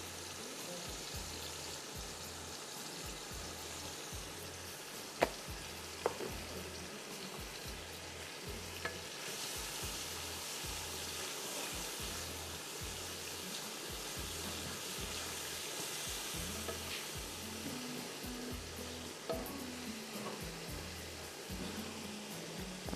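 Whole spices, including black peppercorns, cloves and a black cardamom pod, frying in a pan: a steady close sizzle with regular stirring scrapes and a few small pops throughout.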